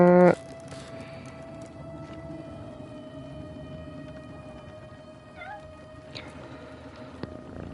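A video-game cat in Mandragora meows when petted, a short mewing cry rising over a steady ambient drone and sustained tones, with a louder tonal burst at the very start.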